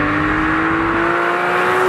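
A Porsche travelling at 195 km/h, heard from a camera on a suction mount on the car: a loud, steady engine drone with a sustained tone and heavy wind and road rush, continuous throughout.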